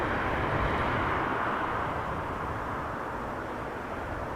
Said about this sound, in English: KLM flight 592 arriving from Johannesburg, 777-300